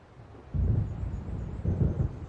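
Deep rumbles of thunder roll in from an approaching storm in the Alan Wake video game, two low swelling peals a second apart over a faint background.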